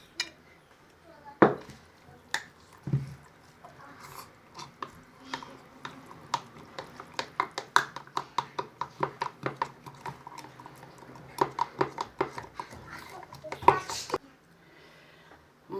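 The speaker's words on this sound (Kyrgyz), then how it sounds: "Барын салгандан кийин жакшылап аралаштырабыз эми." A spoon stirs a homemade elixir mixture in a container, making quiet, rapid, irregular clinks and scrapes. The sounds grow denser through the middle, then stop.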